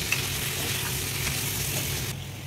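Ivy gourd and onion paste being stirred in a frying pan, a steady close scraping and sizzling that runs continuously with no talk.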